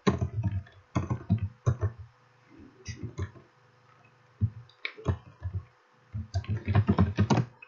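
Bursts of rapid keystrokes on a computer keyboard, clicking in quick clusters separated by short pauses, with a final dense flurry of keys, close and clear, with no one talking.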